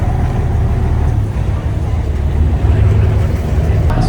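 Steady low engine rumble of a boat running on water to Pulau Ubin, loud and continuous with a constant droning hum and wash.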